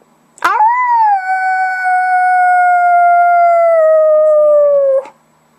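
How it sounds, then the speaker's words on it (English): A lone coyote gives one long, loud, sustained howl lasting about four and a half seconds. The tone rises at the start, holds steady, then sinks slightly before cutting off, alone against near silence. "The lone coyote."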